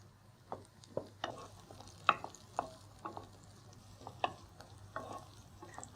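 Raisins and ginger frying in ghee, a soft low sizzle punctuated by regular spoon taps and stirring scrapes against the pan, fairly quiet and close.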